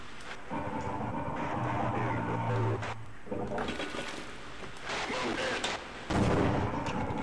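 Gunfire in the video game Half-Life comes as a run of loud, rough bursts under a busy, rumbling game backdrop, with a low hum partway through.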